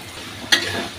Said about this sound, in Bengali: সয়াবিন তেলের মধ্যে আদা রসুন পেঁয়াজটা একটু ভেজে নিলাম।